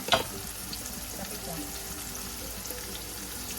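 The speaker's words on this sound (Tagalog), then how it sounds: "lutuin natin ang bawang sibuyas muna" Garlic and onion sautéing in a pan for a honey chicken adobo made without soy sauce, a steady close sizzle with a soft clatter at the start and faint talk in the background.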